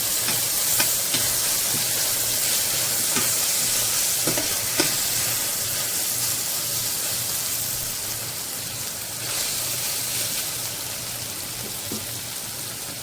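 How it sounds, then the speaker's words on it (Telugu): Ginger garlic paste sizzling and frying with vegetables in a pan, a steady dense crackle running throughout with occasional stirring clinks, close and fairly loud, no voices. "జింజర్ గార్లిక్ పేస్ట్ని వేయించుకోవాలి."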